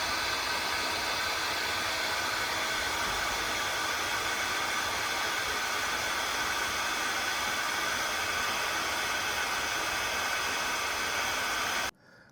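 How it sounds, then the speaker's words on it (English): A hair dryer running on generator backup power blows with a steady, loud whooshing hiss that holds constant, then shuts off suddenly at the end. "Hair dryer is now on"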